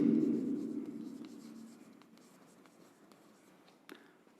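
Pen writing on paper, soft scratchy strokes close by that fade over a few seconds with a small tap near the end.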